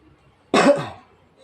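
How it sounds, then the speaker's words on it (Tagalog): A single short, rough cough bursts out close by, loud for about half a second and then fading into quiet. "medyo umuubo pa tayo."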